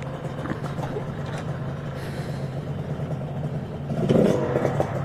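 A Kawasaki Ninja RR motorcycle with an aftermarket SMR exhaust idles and burbles nearby with a deep, throaty exhaust note, then revs up briefly toward the end.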